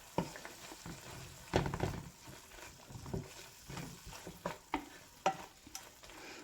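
Fried broccoli being stirred into a gravy in a pan, with irregular scraping and soft sizzling bursts close by, some louder clatters of the spoon against the pan, and no talking.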